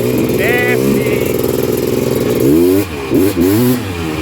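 A Honda TRX330R ATV engine after a full build revs hard while being ridden, a loud close buzzing roar rising and falling in pitch, with people talking over it.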